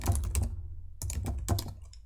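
Typing on a computer keyboard, with quick bursts of key clicks separated by short pauses, close and clear with no talking.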